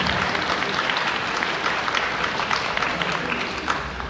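Audience applause during a Russian-language lecture on destiny, a dense steady wash of many hands clapping at once, loud and sustained from start to finish with no voices over it.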